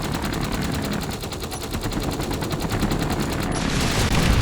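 Rapid, continuous automatic gunfire rattles at a steady pulsing rate during a strafing run in the space game Space Engineers, loud and unbroken for the whole stretch.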